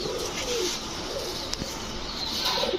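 Pigeons at a pigeon farm or market coo softly in low, rolling calls, a few overlapping close by, over a busy hiss of background noise with occasional wing sounds.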